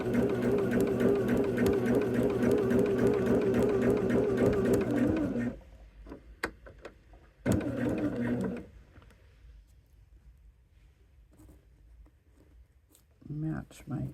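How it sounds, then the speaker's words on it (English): A sewing machine stitches a seam on a LoneStar quilt, its steady rapid mechanical whir running close and loud before cutting off into quieter fabric handling and a brief restart. "And now we're just going to sew right down this line."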